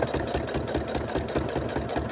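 A sewing machine runs steadily at a medium speed setting, its needle mechanism chattering in a fast, even mechanical rhythm, close and continuous with no voices.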